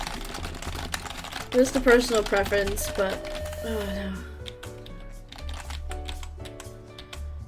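Rapid computer keyboard key mashing clatters close by under a person talking, with the dense clicking continuing after the voice stops.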